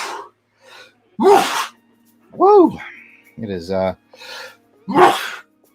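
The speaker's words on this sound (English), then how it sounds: "I'm fixing to sneeze" A single loud, sharp sneeze during pollen season bursts out near the start, followed by short spoken words and a couple of breathy exclamations.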